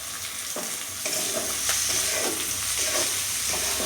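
Tomatoes go into a pan of onions and about a dozen garlic cloves for a paneer curry, setting off a loud, steady sizzle with a louder burst near one second and a few scraping stirs throughout.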